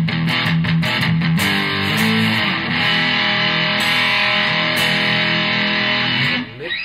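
A Solid Bond Coursesetter electric guitar is played through a distortion drive, giving loud, thick, sustained chords with a few sharp strums, ringing alone without voices.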